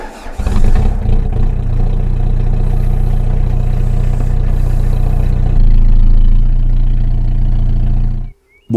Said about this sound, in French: Donc je vais essayer de démarrer avec la nouvelle tension de courroie.